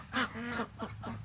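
Ducks quack in a quick series of close, nasal honking calls, several overlapping over a steady low background hum.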